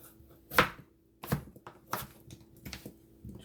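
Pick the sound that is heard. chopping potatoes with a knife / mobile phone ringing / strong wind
chopping potatoes with a knife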